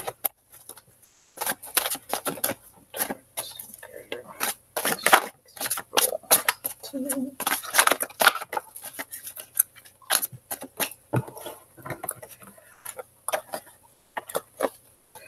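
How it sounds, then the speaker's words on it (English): Large tarot cards riffle and slap in repeated bursts, crisp flicking clatters coming in irregular runs with brief pauses between shuffles, close and fairly quiet. "We'll see if they come out when I'm done shuffling."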